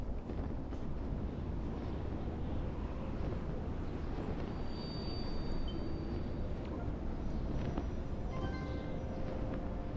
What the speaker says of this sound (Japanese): ちょっとめっちゃ風吹いてるけど。